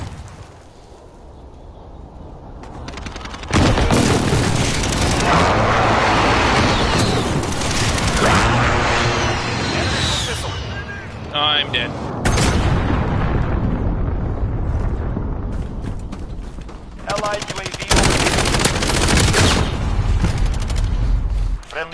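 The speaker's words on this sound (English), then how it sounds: "Enemy precision airstrike" Loud precision airstrike explosions roar in Modern Warfare amid gunfire, with repeated heavy blasts and bursts of shooting along with game voices and radio-style callouts.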